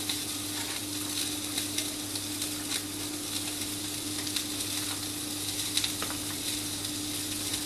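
Lamb and butter frying in a pan, with a steady broadband sizzle and faint crackles and pops scattered throughout, and a constant low hum underneath; no talking.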